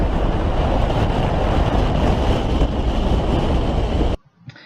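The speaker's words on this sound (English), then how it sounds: "You'll hear in the background the wind" Wind and waves at Lago Grey in Patagonia's Torres del Paine, near icebergs, make a steady, broad, rushing roar that continues evenly before cutting off abruptly near the end.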